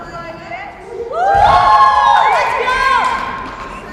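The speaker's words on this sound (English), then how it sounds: "New South Wales clearly has the home field advantage when it comes to cheering today" Youth sports crowd at a Victoria versus New South Wales game swells into loud cheering, with high shouts and whoops rising midway and carrying on while the noise stays strong.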